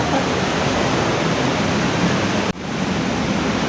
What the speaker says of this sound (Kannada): ನಾವು ಉಂಚಳಿ ಫಾಲ್ಸ್ ಬಂದಿದ್ದು.